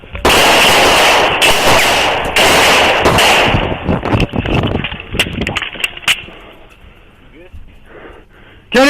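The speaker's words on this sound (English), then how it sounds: "Shots fired" A rapid volley of loud, close gunshots rings out in several sharp bursts during a police incident after a car crash. Frantic speech runs beneath the shots, and a radio dispatch call follows.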